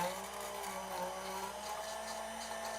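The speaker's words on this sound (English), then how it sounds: "I'm using the Hamilton Beach blender over here, which is a shake maker" A Hamilton Beach shake maker blender runs steadily in a kitchen, a constant moderate motor whir with a faint humming tone and no voices.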